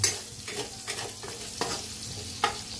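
Galunggong fish fry in a pan until golden brown, a close sizzling hiss broken by several sharp clinks and scrapes of stirring at uneven intervals, with nobody speaking.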